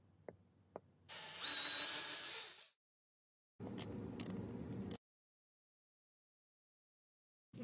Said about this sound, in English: let's drill and tap the other hole